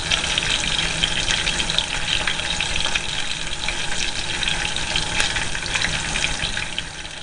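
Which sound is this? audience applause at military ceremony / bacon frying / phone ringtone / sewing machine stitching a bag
bacon frying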